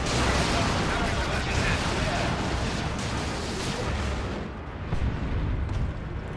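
Weapon fire from a Dawn of War 2 battle, a dense, loud barrage of rapid shots and booming blasts that rolls on continuously before briefly thinning out.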